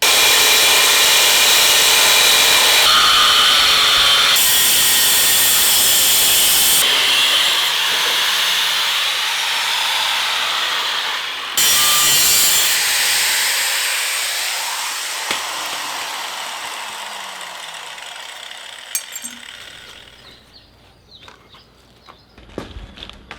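Rusted steel on the front end of a Series 1 Land Rover being cut with a power tool, a loud harsh hissing grind in several bursts that fades to quieter intermittent cuts and silence near the end.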